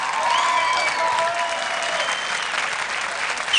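Studio audience on the Arabic music show Taratata applauds a Saudi singer, a dense, loud burst of clapping that holds steady and then tapers slightly, with no talking.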